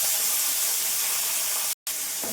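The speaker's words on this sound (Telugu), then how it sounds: "బ్రౌన్ కలర్ వచ్చేదాకా ఫ్రై చేసుకోవాలి." Onions, green chilies, cumin and curry leaves fry in two spoons of hot oil in a kadai, a steady close sizzling hiss that cuts out briefly near the end and then resumes.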